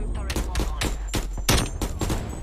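XM4 rifle firing in Call of Duty Cold War: a rapid string of about nine sharp, punchy shots in quick bursts, close and loud, with a faint hum in the background.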